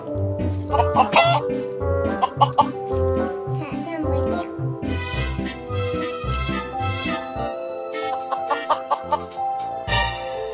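Chicken clucking from a creature in the sandbox game Mini World, repeated short game-sound bursts mixed with bright music-like tones and a voice speaking throughout.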